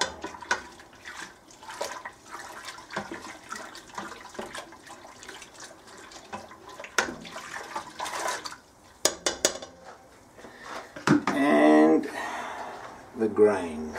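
Homebrew beer wort with hops is stirred in a brewing pot, bringing intermittent soft liquid swishes and sloshing, with a louder splashy burst near the end; a person speaks between the sounds.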